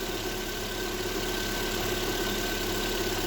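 A car engine idles steadily and close by, a constant hum with an even low throb and no change in revs.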